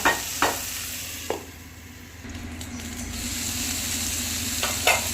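Broccoli and onion frying in oil in a pan, a continuous close sizzle broken by several sharp scraping stirs at the start and end.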